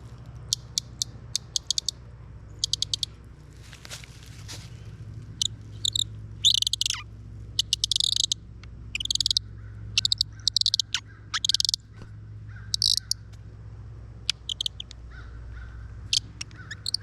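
An Audubon bird caller twisted by hand to imitate birds, giving bursts of high squeaky chirps and twitters in irregular clusters, close and fairly loud over a quiet cabin background.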